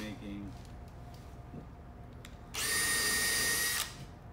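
A power drill boring a hole in wooden boat planking to take a bung, a loud steady whine for just over a second after quieter workshop sounds and a brief voice at the start.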